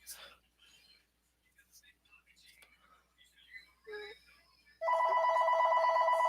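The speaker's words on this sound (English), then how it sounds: "And the phone is ringing" A phone rings with a spam call, a loud steady electronic ringtone that starts abruptly near the end after quiet rustling and faint whispery sounds.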